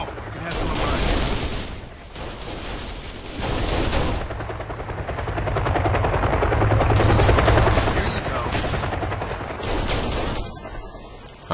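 Helicopter in the video game Kane & Lynch, a steady rotor drone beneath heavy bursts of gunfire and machine-gun fire running through most of the scene, loud and dense with no pauses.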